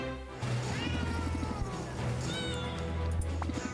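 Cats in a video game meow repeatedly over a busy layer of game sounds and music, the meows rising and falling in several overlapping calls at moderate loudness.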